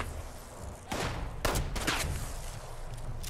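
Gunfire in Fallout 76, a few sharp reports and bursts standing out from a steady background of game ambience, fairly loud, with no talking.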